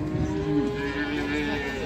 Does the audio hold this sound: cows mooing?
yes